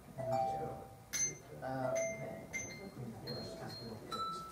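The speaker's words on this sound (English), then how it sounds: "Plucking used to be, say, like this, instead of with the bell shell, turn it over." A handbell plucked rather than rung, giving a few short, separate metallic tones that ring out briefly, with someone talking over them.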